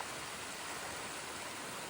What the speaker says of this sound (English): there's a beautiful waterfall